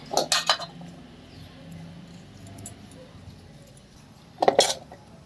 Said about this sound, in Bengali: এবার আলুগুলো একটু এইভাবে করে কাঁটা চামচ দিয়ে ফুটো করে দেব